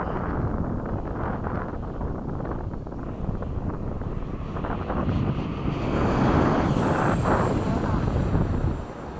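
FMS 70mm F/A-18 RC jet with a Platinum Series EDF unit taking off, a loud steady ducted-fan roar that swells midway amid wind noise, then drops off at the end.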